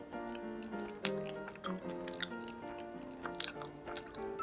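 Close, soft, wet chewing and sticky bites of chewy rice-cake tteokbokki in sweet gochujang sauce, heard over faint background music.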